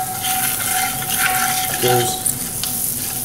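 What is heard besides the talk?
butter melting and sizzling in a pan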